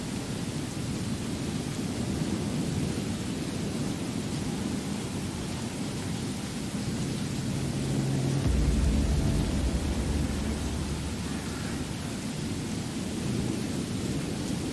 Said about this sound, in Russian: я выхожу в любую секунду на улицу, и в эту секунду и начинает идти дождь